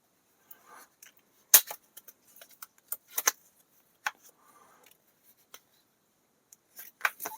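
Plastic spring clamps with strong springs snap and click, sharp irregular clacks scattered among quieter rattles, close and dry with silent gaps between.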